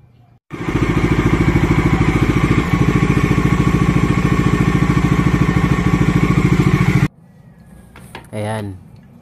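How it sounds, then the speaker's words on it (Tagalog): A Bajaj Dominar 400 UG motorcycle engine starts and idles during an oil change, with a loud, steady, rapid putter, close by, then cuts off abruptly, followed by a short clatter. "papaganahin ko lang ang makina ng mahigit 1 minuto para ma-cleanse ang buong"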